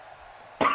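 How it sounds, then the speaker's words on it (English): One short, rough cough from a person with a cough, close to the microphone, bursting out suddenly after a low background hum. "So I've got a bit of a cough."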